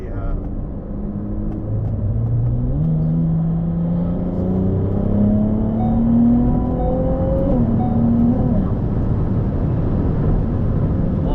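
A Ferrari 296 GTB hybrid supercar engine revs up through rising tones that step down abruptly at quick gear shifts, heard steadily from inside the cabin under continuous road rumble.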